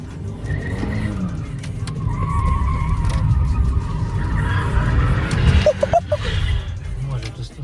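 A BMW 7 Series skids sideways with its tires squealing and the engine droning loudly throughout, while people talk over the noise inside the car.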